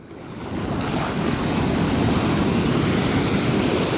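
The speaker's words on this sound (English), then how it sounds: "That's her first time in the ocean." Ocean waves break and wash steadily onto a beach, a loud, continuous roar of surf with wind noise buffeting the microphone throughout.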